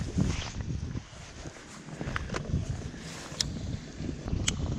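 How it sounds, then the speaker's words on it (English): Gusty wind buffets a small jon boat on open water during a bass fishing outing, a steady rumbling roar with low thumps and occasional light knocks, loud and close throughout. "So it's pretty windy."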